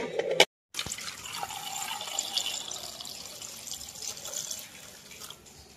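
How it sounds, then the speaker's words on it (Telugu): Water runs into a pot of eggs, a close continuous splashing pour that begins just after a short knock and gradually fades out. "ఈ మాత్రం వాటర్ పోసేసుకుని మూత పెట్టేసి పొయ్యి మీద పెట్టేసేద్దాం"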